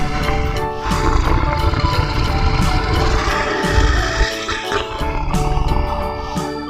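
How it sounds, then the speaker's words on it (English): A tiger roars in a broad, rumbling rush of sound that fills the whole stretch, loud and continuous with swelling surges over a deep low end. "Tiger. Tiger means cheetah."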